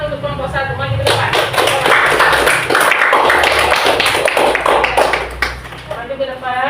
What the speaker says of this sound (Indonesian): Tepuk tangan untuk kelompok 1, maju ke depan.